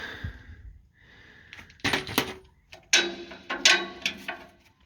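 A Snap-on ratchet wrench works a rusted trailer bolt loose: short bursts of rapid clicking ratchet strokes, close and fairly loud, with brief pauses between them.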